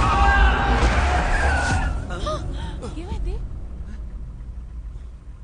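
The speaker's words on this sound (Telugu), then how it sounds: "సడన్ బ్రేక్ వేసావు" A car skids under sudden braking in an action thriller movie scene, a loud tire squeal and rushing skid up front that fades, followed by voices talking.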